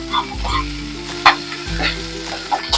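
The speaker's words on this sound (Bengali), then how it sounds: "এইভাবে উল্টে দিয়ে হালকা করে লাল করে ভেজে নেব।" Small mourola fish frying in hot oil in a pan as they are turned over. A loud, close, crackling sizzle runs throughout, broken by a few sharp clatters of the pieces being flipped.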